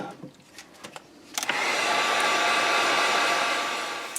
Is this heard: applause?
no